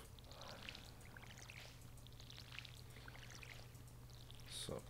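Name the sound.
watering plants in the video game Stardew Valley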